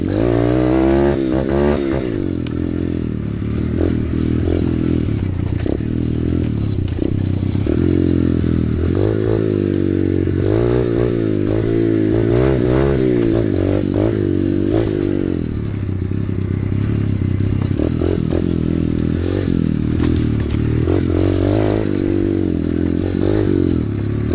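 A 125cc dirt bike engine runs steadily throughout, with a low rumbling drone, rising and falling revs, and occasional rattles and clatter, fairly close and loud.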